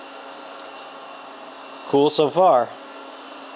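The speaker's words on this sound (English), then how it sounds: "And it's just going to go room by room and figure out the floor plan, and then vacuum up everything that needs to be vacuumed." A Laresar robot vacuum cleaner runs with a steady, even whirring hum that persists throughout, while a person speaks briefly over it.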